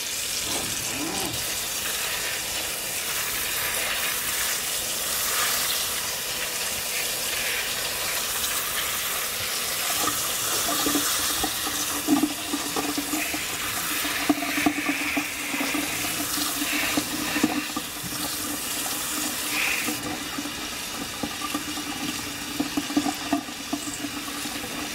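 Tap water runs into a sink while bean sprouts are rinsed, a steady splashing wash with occasional clatter and handling sounds throughout.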